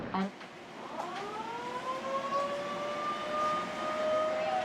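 A civil defense siren wails steadily at noon ahead of traffic control for the opening of Yeongdo Bridge, a drawbridge in Korea, its tone rising and holding over a continuous droning backdrop, loud and sustained throughout.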